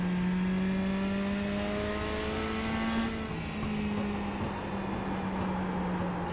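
Mini stock race car engine in iRacing, a small hot four-cylinder sedan droning at high revs, holding a steady pitch with a brief shift near the middle, loud and continuous with no talking.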